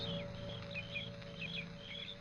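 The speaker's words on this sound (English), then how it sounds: "The sound of birds and crickets seemed loud in my ears" Birds and crickets on a hot August day, repeated faint high chirps in short bursts over a low steady background hum, distant and quiet.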